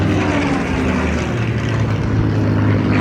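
A Focke Wulf 190 and two Spitfire warbirds flying a dogfighting display at an airshow, a loud, continuous propeller-engine roar with no break.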